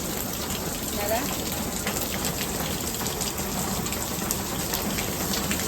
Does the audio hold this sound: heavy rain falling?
yes